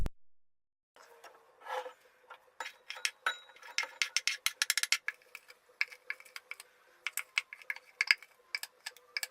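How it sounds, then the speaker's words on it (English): Chopped mooli, carrot and spring onion for kimchi being tossed and mixed together, giving a run of quick, close wet clicks and clinks that come in irregular bursts with no talking. "We've got all our different components and we're going to mix them all together."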